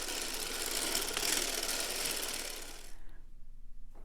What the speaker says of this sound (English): you're going to crank the number of rows that you calculated for your foot.